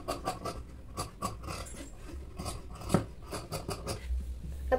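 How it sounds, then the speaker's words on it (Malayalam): Scissors snip through fabric being cut for a baby top, a quick run of close, crisp cutting strokes with small rustles between them and no talking. "എന്നിട്ട് നമുക്ക് സ്ട്രൈറ്റ് ആയിട്ട് ഇതൊന്ന് മാർക്ക് ചെയ്ത് കട്ട് ചെയ്തെടുക്കണം."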